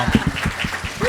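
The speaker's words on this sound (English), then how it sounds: "Give him applause, everyone." Audience at a NAMM 2023 brand partnership panel gives a panelist a short burst of applause, with a voice briefly audible over it.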